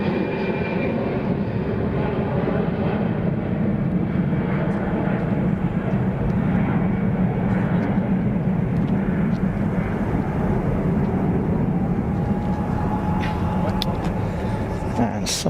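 Swiss Airbus A320 airliner taking off at Zurich Airport, a steady loud jet engine roar that holds throughout, with faint road traffic in the background and occasional talk over it.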